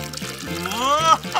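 Water poured into a pitcher to make lemonade, a short steady pour with a rising gurgle as it fills, close by, with voices around it.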